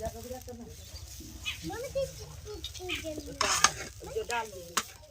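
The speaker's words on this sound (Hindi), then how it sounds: "अब हम इनको इस तरह से मिक्स कर लेते हैं" Spices such as coriander powder are stirred into a mixture in a frying pan while cooking rolls, with soft scraping and faint sizzling. A person talks over it throughout.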